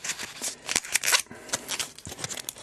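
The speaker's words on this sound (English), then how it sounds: "So sick of ripping these things." An action figure's plastic and card packaging is torn open, giving a quick flurry of close, crackling rips and rustles over a couple of seconds, with no one speaking.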